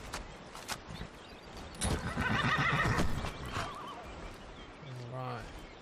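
A horse in the video game Skyrim lets out a clear, fairly close whinny lasting about a second, with light hoof clatter around it and a soft voiced sound near the end.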